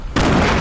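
Sudden loud blast in a shooter video game, a grenade going off with a sharp onset and a sustained rumbling roar that holds steady to the end, close and dominant.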